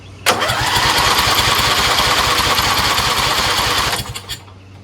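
A Craftsman LT1000 lawn tractor engine cranks on choke, a loud churning whir that begins abruptly and runs steadily for about four seconds before cutting off with a few sputters.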